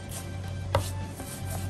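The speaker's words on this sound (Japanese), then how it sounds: "人参も玉ねぎと同じぐらいの大きさに切ります" A knife chopping carrots on a cutting board while an oatmeal dish is prepared: a few sharp, isolated taps, one clearly louder, over a steady background hum, with no talking.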